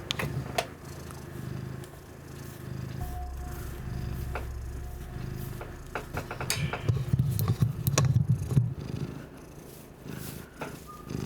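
A cat purrs close into a microphone, a continuous low rumbling purr with soft clicks and handling noises.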